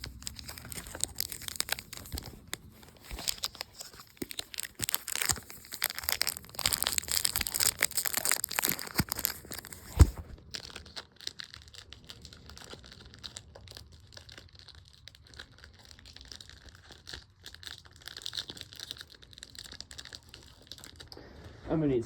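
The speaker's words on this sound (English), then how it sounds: "Now let's get opening the packs" Pokémon card booster packs torn open and handled at close range, with crinkling foil wrappers and crackling plastic, then quieter shuffling and sliding of cards; a person speaks at times.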